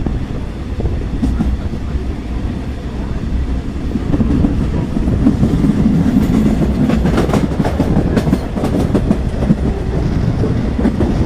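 A steam train rolls steadily along the rails between Cape Town and Elgin with rhythmic clicking of wheels over track joints, mixed with rushing wind noise that grows busier partway through.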